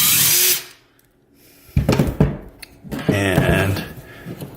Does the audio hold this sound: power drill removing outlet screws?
yes